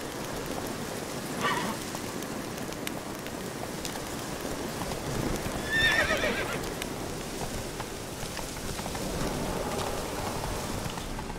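Roach, the horse in The Witcher 3, moving with soft clip-clop hoofbeats and a couple of short whinnies, the hooves fairly muted beneath a rushing outdoor game ambience.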